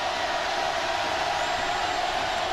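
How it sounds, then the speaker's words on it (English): A stadium crowd at an Auburn versus LSU college football game, heard as a steady, distant roar of many voices that holds evenly throughout with no distinct cheers standing out. "Listen to this crowd, huh?"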